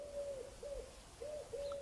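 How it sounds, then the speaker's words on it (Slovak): Birds calling in quiet countryside, a soft repeated cooing of four even notes at a moderate distance, with gentle background hiss and nothing else. "A príjemný štebot vtáčikov?"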